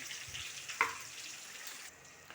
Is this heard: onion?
yes